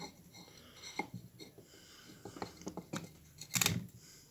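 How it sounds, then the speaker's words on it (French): Garden shears or scissors snip through a geranium stem in a few quiet, separate cuts, with one sharper, louder snip near the end and light rustling of the plant between them. "Là, par contre, je vais juste le couper à partir de là."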